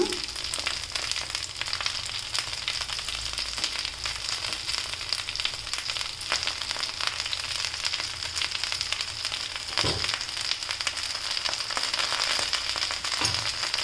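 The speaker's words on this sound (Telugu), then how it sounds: "దీన్ని బాగా రోస్ట్ చేసుకుందాం ఇప్పుడు చూడండి ఫ్రెండ్స్ ఈ విధంగా మనం బాగా ఫ్రై చేసుకోవాలన్నమాట" Curry leaves, dried red chillies, mint and tamarind fry in a pan for mint chutney, giving a steady, close sizzle and crackle with a few soft stirring knocks.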